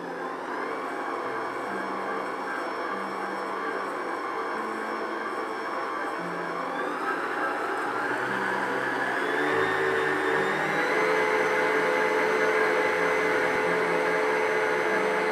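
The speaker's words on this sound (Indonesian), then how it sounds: "Kemudian tambahkan dengan vanili bubuk dan siap untuk di mixer" An electric mixer beats butter, sugar and vanilla powder for a moist butter sponge cake batter, a loud steady whirring motor drone that rises slightly in pitch and intensity partway through, with no voices.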